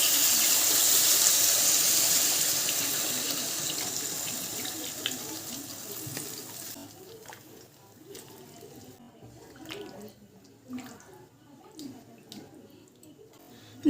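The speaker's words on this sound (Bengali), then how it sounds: "এবার পরিমাণ মতো জল দিয়ে দেব।" Water pours steadily into a pot of spiced potatoes being cooked for an aloo paneer curry, a strong rushing gush at first that tapers off into softer sloshing and bubbling.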